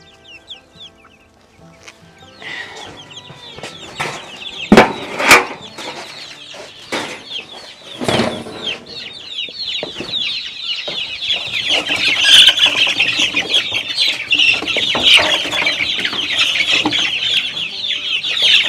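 Cornish Cross meat chickens and Buff Orpington dual-purpose hens cluck and squawk in a chicken tractor, with bursts of wing flapping and scuffling. The calls are close and grow busier and louder toward the end.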